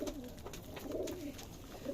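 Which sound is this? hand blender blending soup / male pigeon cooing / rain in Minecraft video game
male pigeon cooing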